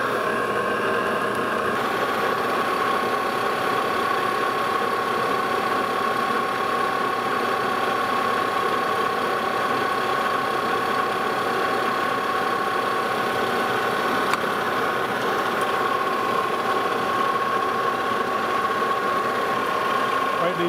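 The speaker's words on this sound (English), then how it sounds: "I'm just going to turn this part down here on the end, probably about an inch in, just down to a smaller diameter" A lathe turns a steel mandrel down to a smaller diameter near its end, giving a constant machine hum with a steady tonal whine and faint cutting noise, even and unbroken throughout.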